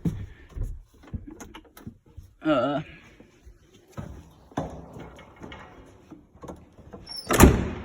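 The cab door of a John Deere S680 combine swings and latches, ending in a sharp metallic clunk near the end, after scattered knocks and shuffling, with someone talking in between.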